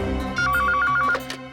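A telephone bell rings in a quick repeated trill, loud and close, set over a dense background of dramatic music in a crime drama scene.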